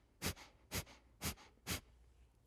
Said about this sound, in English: we're going to start with breath of fire.